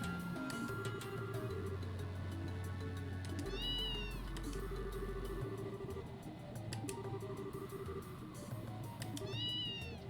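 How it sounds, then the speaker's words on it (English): A cat meows repeatedly in the video game Trails in the Sky SC, its calls rising over steady game music and ambient sound, fairly clear and mid-distance. "Cat."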